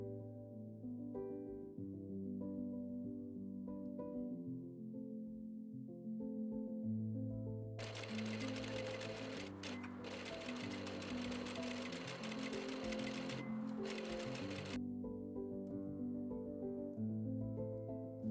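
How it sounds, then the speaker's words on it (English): A sewing machine stitches darts on a dress, running steadily for about seven seconds with a busy mechanical whir. A quieter, lower hum fills the stretches before and after, and no one speaks. "I'm going to pin the darts and then sew them, backstitching only at the beginning"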